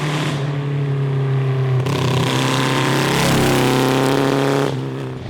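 A 750 cross kart engine with a dual-carburettor swap idles close by with a steady buzzing drone, its pitch rising slightly partway through before settling back, loud and continuous.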